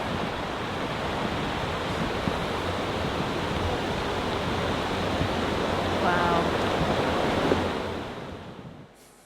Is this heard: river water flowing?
yes